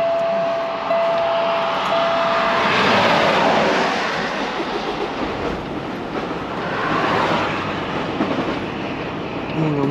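A car with a transmission fault being started and run, giving a loud, steady broadband engine roar that swells and holds for about ten seconds with no voices.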